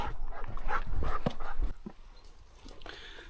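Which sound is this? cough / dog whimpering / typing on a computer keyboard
dog whimpering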